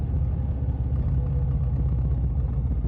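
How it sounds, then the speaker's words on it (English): A motorcycle engine rumbles steadily on a quiet, empty road, a continuous low drone with a slight echo and no voices. "Like engine noise, echoing."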